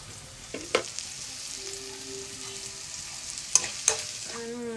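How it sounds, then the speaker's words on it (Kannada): Ground spice paste goes into a pan of frying onions for spicy noodles: a low steady sizzle with a few sharp clinks of a spoon against the pan and brief scraping stirs, close and fairly quiet, no talking. "ನೆಕ್ಸ್ಟ್ ನಾನು ರುಬ್ಬಿಟ್ಟಿರೋಂಥ ಪೇಸ್ಟ್ ಡೈರೆಕ್ಟಾಗಿ ಹಾಕ್ತಿದ್ದೀನಿ"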